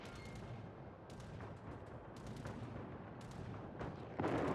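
Naval gunfire from warships in the World of Warships game, with repeated booming salvos spread across the clip over a dense, steady rumble of battle noise and no talking.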